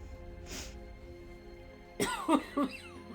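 A short sniff early on, then three quick, muffled coughs close to the microphone after a quiet pause, from a person with a sore, lost voice.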